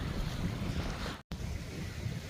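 Strong wind at the sea during crab fishing in Singapore blows a steady roaring gust across the microphone, mixed with a water wash, broken by a brief dropout in the middle.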